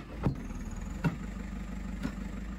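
A JCB forklift's engine runs at a steady low idle-like drone, with three soft periodic thumps spaced about a second apart while it lifts heavy stones.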